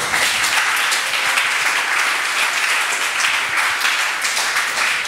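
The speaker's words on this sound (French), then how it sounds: "Est-ce qu'on peut acclamer pour vous?" A church congregation bursts into sustained applause and clapping, a dense, steady wash of many hands held at an even level from start to finish with no pauses.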